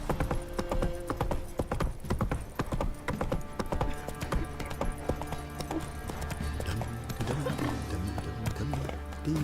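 Roach the horse galloping in The Witcher 3, a steady run of hoofbeat clip-clops with a whinny, layered under game music and ambient sound throughout.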